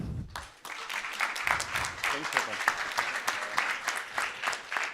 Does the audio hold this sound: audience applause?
yes